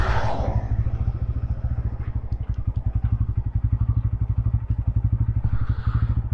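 A fuel-injected Bajaj Pulsar N160 motorcycle runs close by, its engine beating out a fast, even train of thumping pulses throughout with a little mechanical clatter.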